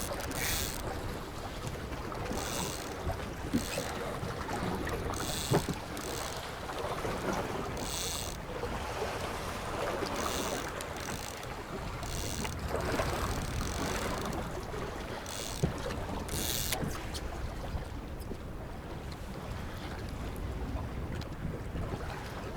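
Fishing boat cruising on Lake Erie while walleye fishing, a low engine drone mixed with water rush and gusting wind noise on the microphone, with occasional knocks and bumps, steady and fairly quiet throughout.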